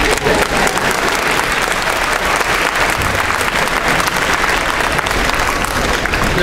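A dense, loud round of clapping fills a school speaker-series hall, steady and unbroken for over six seconds, with a faint crowd murmur mixed in.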